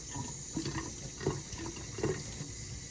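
Steady running water streams from a tap into a sink as makeup brushes are rinsed, a continuous close hiss with slight splashing changes.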